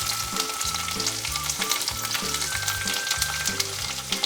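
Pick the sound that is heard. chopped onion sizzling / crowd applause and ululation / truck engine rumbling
chopped onion sizzling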